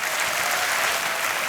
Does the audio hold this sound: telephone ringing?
no